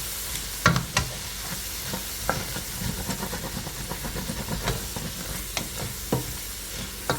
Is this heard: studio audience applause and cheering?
no